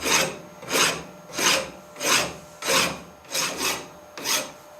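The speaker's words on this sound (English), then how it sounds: "I'm just using a file to remove some of the material" A hand file rasps across the metal of a miniature M1911 magazine tube clamped in a vise, giving seven loud, evenly paced strokes, each a rising and fading scrape, with nothing else heard.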